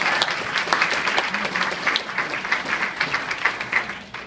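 Steady, dense applause from an audience honoring Jim Lemke at an evening event, sustained clapping from many hands throughout at an even level, moderately loud and somewhat distant.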